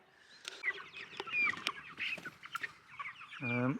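Several chickens cluck and murmur nearby in short, uneven bursts, ending with a louder drawn-out squawk.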